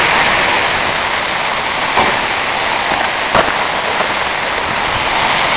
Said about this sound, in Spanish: Todos los granizos que están cayendo